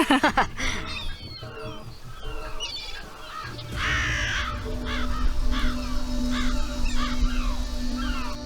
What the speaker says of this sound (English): do you hear those birds? What about them? They're so noisy.